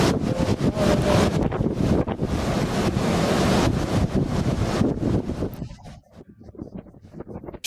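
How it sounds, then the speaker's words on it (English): Heavy rushing water and gusting wind buffet the microphone as a waterfall crashes and sprays up in misty waves, a loud continuous roar that suddenly drops away near the end, leaving quieter churning. "Strong winds from the bottom of the falls blow against the current, causing the water to splash up in misty waves"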